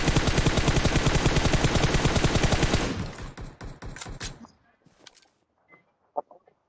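Automatic gunfire in PUBG Mobile, a dense sustained burst of rapid close shots that breaks off into scattered fainter single shots and quiet gaps.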